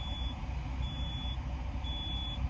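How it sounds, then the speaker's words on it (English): An alarm clock beeps inside a parked truck cab in short high, evenly spaced bursts over a heavy low rumble, fairly faint against the background. "something's beeping. I don't know what that beeping is."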